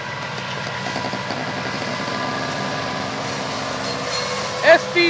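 Freight train with SD60M and SD70M2 locomotives, an intermodal consist, rumbling past steadily with rhythmic wheel clatter, a continuous close roar and a couple of brief squeals near the end.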